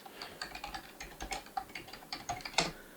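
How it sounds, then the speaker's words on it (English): Keys clack irregularly on a computer keyboard as a search term is typed in. The bursts of taps are close and fairly quiet, with small pauses between them and no speech. "Let's try and type it in."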